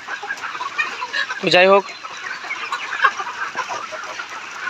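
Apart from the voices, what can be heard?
layer chickens clucking on a poultry farm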